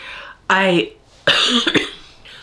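Two short, harsh bursts separated by a brief pause, like a close-up cough followed by a throat-clearing hack, with no talking.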